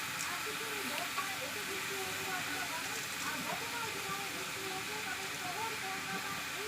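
Dried red chillies and whole raw cumin frying in hot oil, a steady soft sizzle and hiss throughout, with a voice talking over it.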